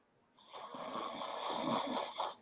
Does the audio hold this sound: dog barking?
no